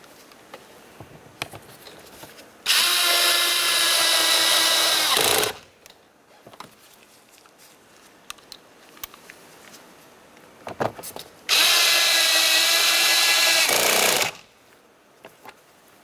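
A power tool drives 10mm mounting bolts into the front door of a 2007-2012 Nissan Versa in two loud, steady whirring bursts of about three seconds each. Quiet handling clicks fill the gaps between them.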